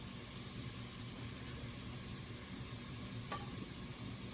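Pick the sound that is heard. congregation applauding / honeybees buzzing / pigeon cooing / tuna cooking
tuna cooking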